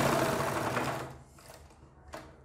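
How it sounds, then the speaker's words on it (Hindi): A sewing machine runs a fast continuous stitch along a kurti seam, loud and close at first, then slows and stops, followed by two brief short bursts of stitching. "अब इसमें हम सिलाई लगाएंगे, एक पैर के मार्जिन सिलाई लगाते हुए आप यहाँ पर आएँ"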